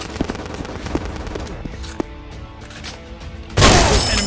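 Machine gun fire in a commando shooting video game: rapid, crackling bursts of gunfire with scattered loud shots, then a sudden dense roar of fire near the end, all close and loud with no voices.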